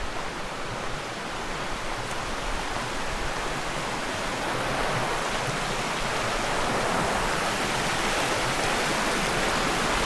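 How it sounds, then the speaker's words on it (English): A cold mountain stream at Kamikochi rushes steadily, a dense broadband wash of flowing water that stays even and close from start to finish, with no voices. "It's a lovely little stream."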